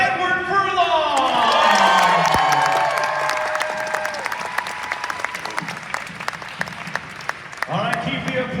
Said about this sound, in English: All right, keep the applause going